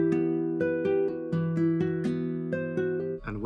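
Dark guitar sample made in FL Studio, played dry without effects: a clean plucked melody of about a dozen notes in a steady rhythm, close and clear with no voice.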